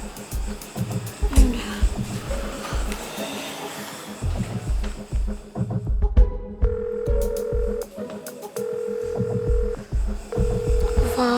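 A telephone call dialed out rings repeatedly without being answered, steady tonal ring bursts repeating at even intervals under indoor voices and background talk.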